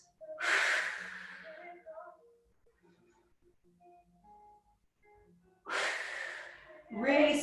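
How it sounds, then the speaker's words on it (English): Deep breathing during an exercise class: a loud, long inhale and exhale near the microphone, then quiet, then two more strong breaths, with faint background voices in between. "Nice deep breath."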